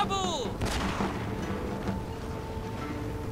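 Artillery fire in the samurai-era strategy game Shogun 2: Fall of the Samurai, with a sharp blast early followed by a rumbling, sustained battlefield wash and a faint high whistle, loud and alone without talk.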